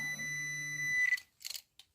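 Garrett Pro-Pointer metal detector emits a steady electronic tone that rises and cuts off as it powers down, followed by a few soft handling clicks.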